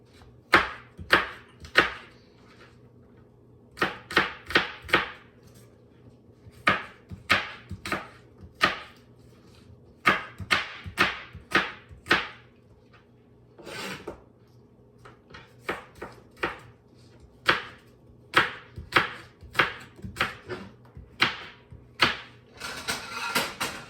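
A knife chops through an unpeeled apple on a cutting board, making rapid bursts of sharp, close thuds in irregular clusters with brief pauses between runs, loud and clear with no talking.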